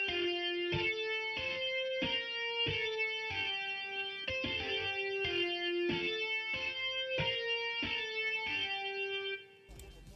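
Sampled guitar from the Expand library in a hip-hop production, a bright plucked figure repeating in an even pulse of chords for about nine seconds before cutting off, with no talking.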